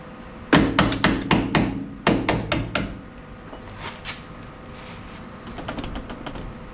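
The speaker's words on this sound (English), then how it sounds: "that little roll pin should be able to just tap out" A punch is struck sharply to drive a roll pin out of a VW Beetle door handle: two close bursts of about six rapid metallic hammer taps, then quieter scattered taps.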